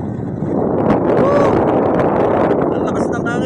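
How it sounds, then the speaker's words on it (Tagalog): Strong seaside wind buffets the microphone in a loud, continuous rumbling roar, broadband and steady across the whole stretch, with a faint voice mixed underneath. "Ang lakas ng hangin"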